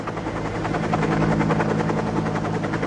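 Near Diamond Head on Oahu, a helicopter flies close by, its rotor thudding in a rapid steady pulse over a broad engine roar that holds loud for the whole stretch.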